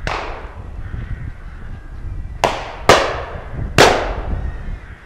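Three sharp shotgun blasts fired at rooks in open country, loud and close with ringing decay, the first at about two and a half seconds and the next two nearly a second apart, over steady wind noise.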